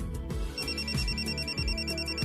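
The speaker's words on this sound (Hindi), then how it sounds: "ऐसे वक्त पर फोन कौन कर रहा है? ए प्रकाश, जाओ फोन उठाओ।" A telephone rings in a domestic TV drama scene, bright repeated electronic trilling over background music and dramatic low swells, steady and moderately loud.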